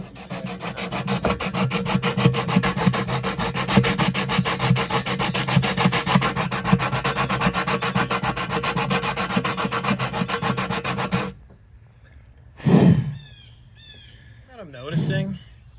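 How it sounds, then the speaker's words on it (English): IMS gas tank being sanded by hand for a Yamaha WR250F dirt bike, fast rhythmic rasping strokes close up for about eleven seconds, then stopping; crows caw briefly afterward. "if this happens, I should sand this fit"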